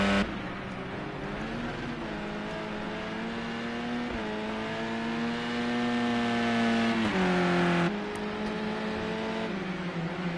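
Touring car engine heard onboard on the Algarve circuit, a loud sustained harmonic drone that rises and falls through gear changes and corners, with no talk.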